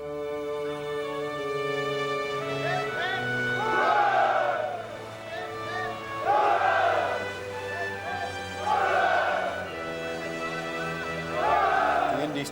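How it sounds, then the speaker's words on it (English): A ship's crew cheers in repeated rising bursts of massed voices roughly every two to three seconds, over a steady tonal background bed. "He's cheering us, sir."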